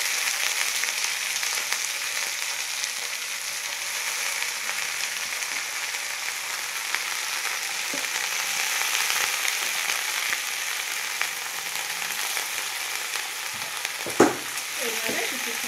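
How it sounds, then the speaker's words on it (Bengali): Fenugreek greens, potato and eggplant fry together in a pan with a steady, close hiss, and a brief stirring clatter near the end. "এইভাবে কিছুক্ষণ ভাজবো।"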